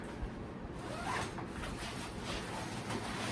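Zips on the bat compartment of a DSC cricket kitbag are pulled open in a few continuous rasping strokes, close and fairly loud, with no talking.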